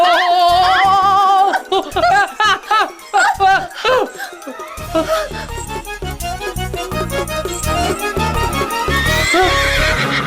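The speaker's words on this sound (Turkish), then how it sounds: "At kaçıyor." A horse whinnies loudly in several bursts, then its hooves clatter as it runs off, with voices and music around it.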